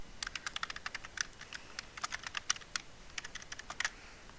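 Faint, light clicking on a computer keyboard, quick irregular keystrokes in short bursts with small gaps, heard alone against a quiet background.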